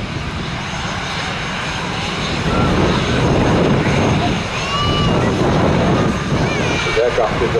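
An Air Transat Airbus A321-200 arrives at Manchester Airport, its engines a loud, steady roar with rising whine tones as it passes close by, continuous throughout.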